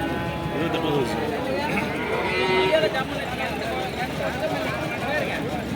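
HF cows low at the busy Gundadam cattle market, their moos blending into a dense wash of crowd chatter and outdoor noise.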